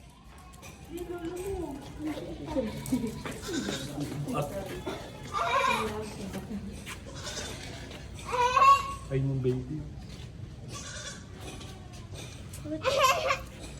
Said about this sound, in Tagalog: Gulat ako dun sa kambing.